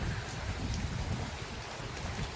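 Thunderstorm rain pours steadily onto a street in the Saint-Henri sector of Montreal, Canada, a dense, even hiss of drops with a low rumbling undertone throughout and no voices.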